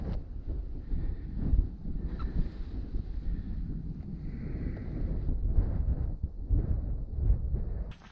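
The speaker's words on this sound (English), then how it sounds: "Definitely got chillier now I'm exposed to all that wind" Strong wind buffets an exposed ridge at Stiperstones, Shropshire, making a constant low rumbling roar with gusty surges against the microphone, and no voices.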